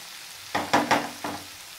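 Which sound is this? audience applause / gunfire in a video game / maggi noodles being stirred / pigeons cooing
maggi noodles being stirred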